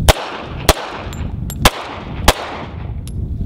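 Handgun shots fired at a shooting range for concealed-carry training, four or five sharp, loud cracks spaced roughly half a second to a second apart, each with a short ringing tail.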